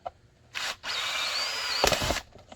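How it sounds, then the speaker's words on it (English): A power drill bores holes into a holster shell, with a short burst of whirring, a pause, then a longer sustained high whine ending in a gritty crunch as the bit cuts through, close and alone. "so we'll go ahead and drill those"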